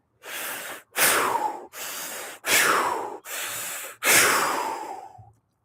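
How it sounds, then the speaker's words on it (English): Three deep breaths in and out through the mouth, six loud close airy rushes alternating inhale and exhale, the exhales longer and fading, with brief silent gaps between. "Let's do 3 big breaths in and out the mouth"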